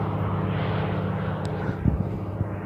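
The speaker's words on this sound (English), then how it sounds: "There's some planes right there flying." Planes at a floatplane base give a steady, loud engine drone that stays constant throughout, with a few soft knocks and bumps nearby.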